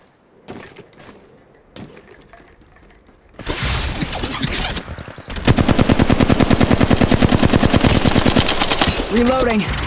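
Apex Legends weapon fire on iPad: sparse clicks give way to a loud, rapid run of evenly spaced automatic gunshots, close and sustained, with mechanical clatter between bursts.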